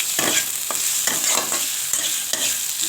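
Red capsicum cooks in a frying pan for an egg and potato curry with coconut milk, giving a steady sizzle broken by several quick scraping stirs of a spatula.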